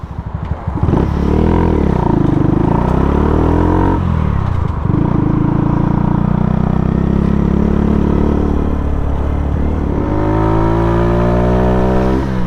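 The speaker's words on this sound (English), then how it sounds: "the bike starts feeling very slow." A motorcycle ridden along a country road in Norfolk accelerates through the gears, its engine droning loudly and rising in pitch with each gear, plus wind and rumble from close on the bike. No one speaks.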